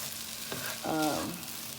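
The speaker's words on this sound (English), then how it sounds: "Check this rice again. I can hear it sizzling." Rice sizzles steadily in a hot pan, a soft continuous crackle with a brief scraping stir partway through.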